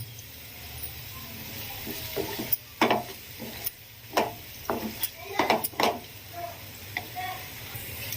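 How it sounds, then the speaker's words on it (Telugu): Onions and curry leaves fry in a pan with a steady low sizzle, broken by scattered clicks and scrapes of stirring utensils against the pan. "ఇలా కొంచెం ఫ్రై అయిన తర్వాత ఇందులోకి కొంచెం కరివేపాకుని యాడ్ చేస్తున్నాను"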